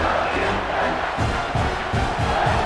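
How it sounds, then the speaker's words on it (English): A stadium crowd at an American college football game in Clemson roars loudly and continuously, rising in a sustained wall of cheering and shouting to push the defense for a red zone stop. "And here comes the noise. This crowd is trying to inspire this defense to make a big red zone stop."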